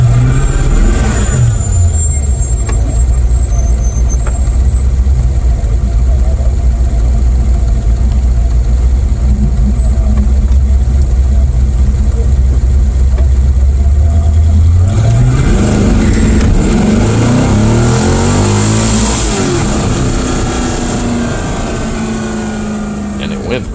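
An LS V8-powered Porsche 914 at a drag strip, its engine droning loud and steady, then a rising rev as it pulls away, fading slightly toward the end with some wind noise.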